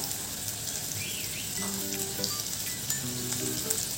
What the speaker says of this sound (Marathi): त्यामध्ये आता मी एक मोठा चिरलेला कांदा टाकलाय.